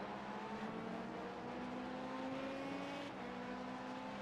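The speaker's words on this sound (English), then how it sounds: "I would be saying that car sounds nice, but it doesn't sound nice when people are feathering the throttle" A race car engine in the iRacing sim at Watkins Glen drones at a steady, moderate level with slightly wavering pitch as the throttle is feathered, with no voices present.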